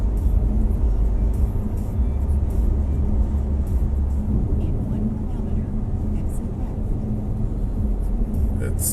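A car rolls along slowly with a steady low engine and road rumble filling the cabin, broadband tire and wind noise constant throughout, with faint knocks and light sounds on top.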